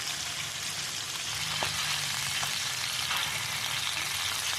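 Chicken fries in a pan for a creamy chicken and mushroom dish, giving a steady, close sizzle with small pops and no talk.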